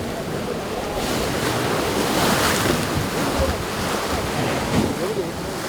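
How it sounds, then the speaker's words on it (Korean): Strong sea waves crash and churn around rocky, cliff-lined Gokdu island, a loud continuous wash of surf mixed with wind buffeting the microphone. "곡두섬 주위에는 파도도 거세 배를 대기가 쉽지 않습니다"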